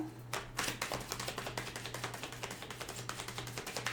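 Tarot cards being shuffled by hand, giving a rapid run of crisp taps and riffling flicks close by, with a steady low hum underneath and no voices.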